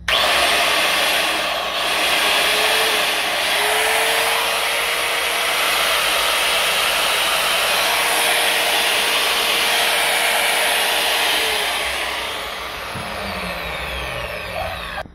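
A Makita 4100NH3 marble saw, newly fitted with a replacement bearing, runs on a 220-volt outlet: a steady, loud motor whine and roar holds for about fifteen seconds, easing slightly near the end.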